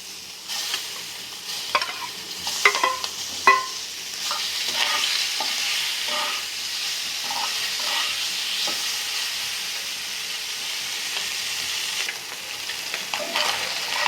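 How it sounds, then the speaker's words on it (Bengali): Baim (eel) fish fries in a pan of oil with a steady hissing sizzle, punctuated by scraping and clinking of a utensil stirring, close and moderately loud. "এখন আমি মাছটি ভেজে নেব।"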